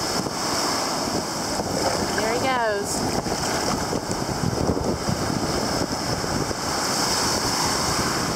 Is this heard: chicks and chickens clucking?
no